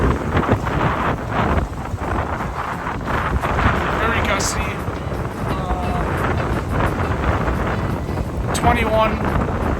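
Steady, roaring wind gusts buffet an open microphone aboard a small sailboat running on a reefed mainsail during a solo race to Mackinac Island, with a continuous rush and occasional water splashes throughout.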